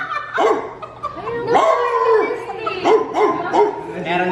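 A voice actor imitates a dog, giving a series of short yipping barks and whimpers with a bow-wow character, close and loud, separated by brief pauses.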